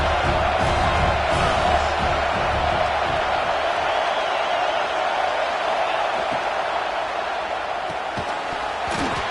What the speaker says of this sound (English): the home crowd going absolutely bananas